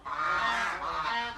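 A duck in a backyard poultry shed gives a loud, nasal honking call that lasts just over a second, close by and on its own.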